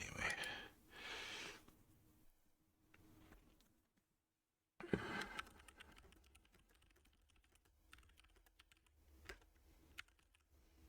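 Fingers typing on a computer keyboard, quick close clicks in bursts with pauses and a near-silent gap, faint breathing between.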